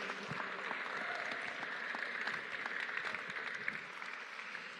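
A political rally crowd claps and cheers for two state representatives, dense sustained applause with scattered whoops, filling the whole stretch at an even level.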